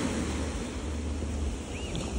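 Ocean waves wash onto a rocky beach at Cidade Velha, Cape Verde, at sunset, a continuous broad roar of surf with some wind noise on the microphone and no talking.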